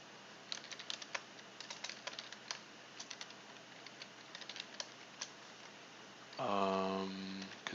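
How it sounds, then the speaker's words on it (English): Fast, close typing on a computer keyboard while coding in C++, irregular clicking keystrokes over a low hum, followed near the end by a brief murmuring voice. "I keep typing it wrong too."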